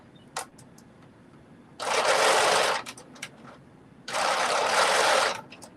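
Two sustained bursts of a sewing machine running fast while stitching knit sock fabric, each about a second long, separated by short pauses and faint clicks, close and fairly loud.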